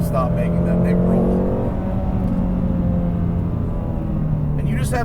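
Ford Mustang GT350R V8 engine held at high revs on a race track, a loud steady droning tone that sags slightly and settles, continuous and close throughout.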